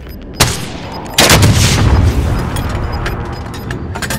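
Loud gunfire and rocket explosions from Call of Duty: Modern Warfare. A sharp blast comes first, then a heavier booming explosion that rolls on and fades, with no talk over it.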